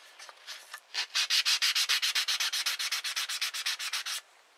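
Fine 800-grit sandpaper is rubbed by hand over a motorcycle part in about twenty quick, even back-and-forth strokes, a close, dry rasping rhythm with no talking.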